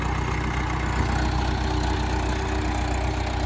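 A Mahindra Arjun 555 tractor engine idles outdoors near a colony, a loud, steady low rumble with a regular chugging pulse that continues unbroken throughout.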